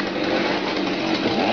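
A chainsaw engine running loud and close, a steady buzzing snarl without pause.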